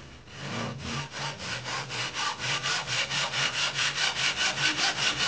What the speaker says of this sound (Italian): facendo scorrere in avanti la sega e poi procediamo con il taglio